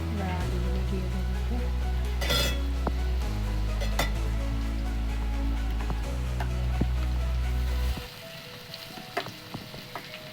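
Potatoes go into a hot pan of oil for vegetable chow mein, setting off a loud, steady sizzle with stirring scrapes and clinks, then the frying drops sharply away, leaving quieter crackles.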